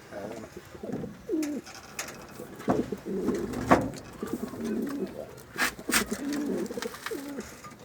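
Adana native breed pigeons cooing up close, a series of soft repeated throaty coos with a few sharp knocks and rustles between them.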